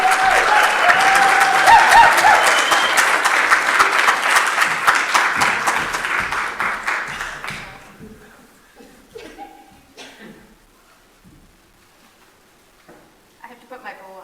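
Congregation at a church service applauds loudly and steadily to welcome a drag performer, the clapping swelling early then fading out after about eight seconds, leaving scattered chuckles and quiet voices in the room.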